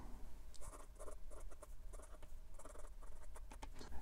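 A 1940s Waterman Starlet fountain pen with an extra fine nib, held far back at a low angle, scratching across paper in quick faint strokes over a low steady background hum, no talk.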